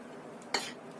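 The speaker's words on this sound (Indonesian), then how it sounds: "Aduk sampai tercampur rata" A utensil stirs a fish seasoning mixture of powdered stock, pepper and salt, giving one quick, close clink and scrape against the bowl in an otherwise quiet moment, with no talking.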